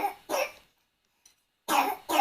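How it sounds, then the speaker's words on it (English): A toddler with a lingering cough coughs in short bursts close by: two quick coughs, a pause of near silence, then two more. "He still has a cough, bless him."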